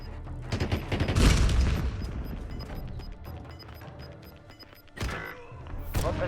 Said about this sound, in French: Grenade frag envoyée.